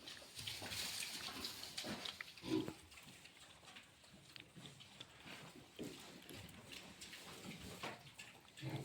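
Young pigs in a home pen grunt and snuffle close by while feeding, with irregular short grunts scattered over quiet rustling and wet sounds of eating and drinking, faint overall.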